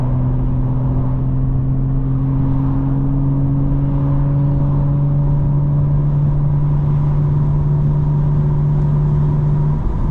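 A 900 hp 2025 BMW M4 engine drones steadily and loudly for the whole stretch, a strong low harmonic hum holding nearly constant pitch as the car drives along, with no voices over it.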